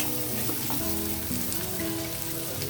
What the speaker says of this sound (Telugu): ఆనియన్ కొంచెం వేగిన తర్వాత మనం డైరెక్ట్ రొయ్యలు యాడ్ చేసేద్దామండి